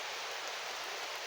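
Steady rain pours down outdoors in the Philippines, a dense, even hiss of falling drops with no pauses and no voices over it.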